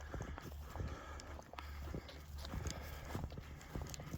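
Cows moving through a field, heard as a loose series of hoof thuds and clops with rustling between them, quiet and somewhat distant over faint background noise.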